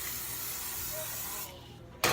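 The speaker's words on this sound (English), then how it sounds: "I'm just gonna spray it with some non-stick cooking spray." Non-stick cooking spray hisses onto a pizza pan in a steady, close spray, stopping briefly before a final short, loud burst.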